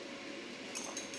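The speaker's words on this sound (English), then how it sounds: "fork and just kind of whisk it all together" A fork whisks eggs in a bowl with quick, faint clinks and scrapes against the side, a brief burst of light metallic ticks over a soft background hum.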